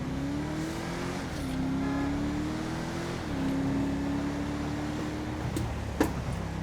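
Car in GTA 5 launching and accelerating hard, engine note climbing through several gear changes in a steady rising-and-dropping pattern, fairly loud and continuous with a brief sharp sound near the end, no talking.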